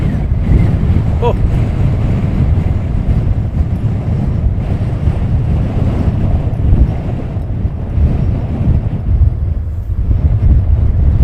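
Gusty wind buffets an outdoor microphone at an airport, a steady low rumbling roar that runs through the whole stretch with little letup, loud and close.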